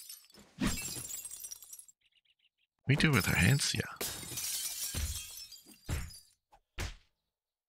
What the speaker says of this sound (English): But let's pick up this broken glass first.